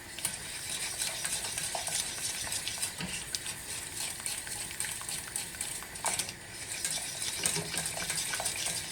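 A white roux sauce is stirred in a pan as it comes to the boil, giving a continuous soft scraping and bubbling with light utensil taps, close and unbroken.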